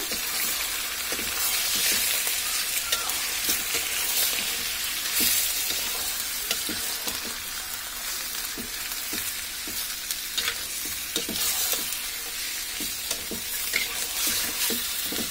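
Broiler chicken frying in a pan while being stirred, a continuous loud sizzle broken by repeated scraping and clinking strokes of the spatula, no talking.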